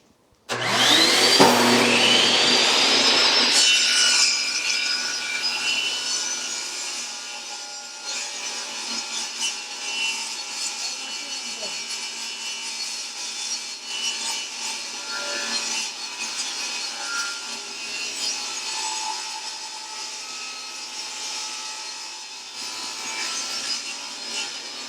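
A table saw rips through scraps of MDF for a drawer bottom: a loud, harsh cut at the start, then the blade's steadier whirring drone carries on up close for the rest of the clip.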